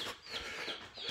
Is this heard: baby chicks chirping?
yes